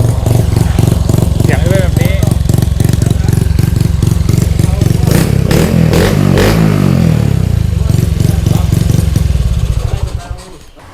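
Several motorcycles being warmed up after sitting unused for a long time, their engines idling loudly with a steady throbbing rumble, occasional revs and clatter, and someone talking over them before the noise cuts out near the end.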